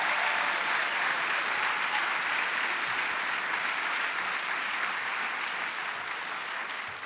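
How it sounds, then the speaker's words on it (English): Dense, sustained applause from a large audience at an EPA announcement with Vice President Kamala Harris at Coppin, a steady wash of many clapping hands that tapers slightly toward the end. "please give them a big round of applause again"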